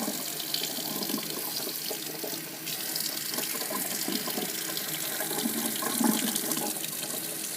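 Steady running tap water splashing and gurgling over a clarinet or saxophone mouthpiece held beneath the stream, continuous and close, with no talking.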